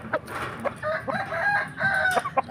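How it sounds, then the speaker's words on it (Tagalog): A rooster crows among breeder chickens on a farm, its strained, rising call stretching across a couple of seconds, close and loud, with brief clucks and other fowl sounds scattered around it. "Ang tandang."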